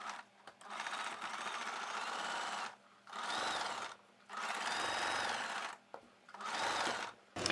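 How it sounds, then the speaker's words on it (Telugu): A sewing machine stitches a blouse in four bursts of fast, whirring running, each lasting about one to two seconds with short pauses between, close and clear with no talk. "ఇప్పుడు నేనైతే ఈ బ్లౌజ్కి పై వైపున ఇంకొక కుట్టు వేస్తున్నాను."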